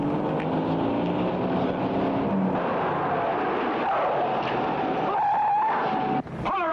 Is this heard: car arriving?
yes